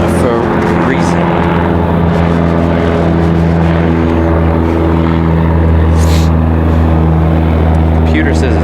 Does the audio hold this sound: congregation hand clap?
no